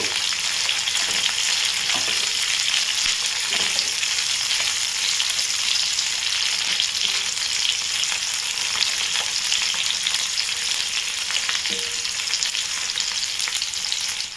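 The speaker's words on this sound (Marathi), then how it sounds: "त्याचबरोबर एक हिरवी मिरची जी घेतली होती ती देखील घालणार आहोत ते देखील परतून घेऊया" Ginger, garlic and green chili fry in hot oil for matar paneer, giving a loud, dense, continuous sizzle that holds steady throughout with a few faint stirring knocks and no voices.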